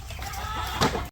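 A farm chicken clucks over low barn background noise, with a short, louder squawk near the end.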